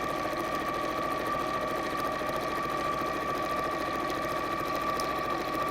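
A sewing machine stitches straight across the bottom of a fabric bag, running steady and continuous with an even, whirring hum close by and no pauses or voices.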